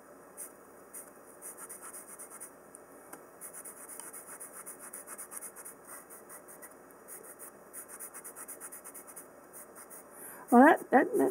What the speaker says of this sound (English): let's test out this paper with the pencil on the paper